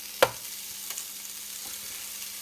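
Spam hits a hot pan on a grill with a sharp clack, then a soft, steady frying hiss continues beneath a few faint clinks, with no talking.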